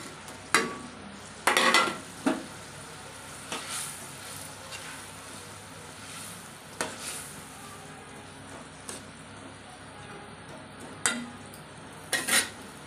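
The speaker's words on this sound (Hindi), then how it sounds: "इसी में हम लोग डालेंगे फ्राई किया हुआ मछली" Fried tengra fish goes into a pan of masala with scattered spatula scrapes and metal clinks over a faint sizzle, the taps coming irregularly and fairly close.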